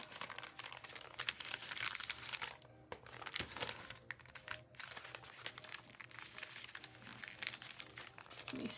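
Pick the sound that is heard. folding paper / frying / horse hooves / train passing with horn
folding paper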